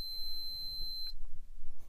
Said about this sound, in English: I get the beep. That means we have continuity and everything is good.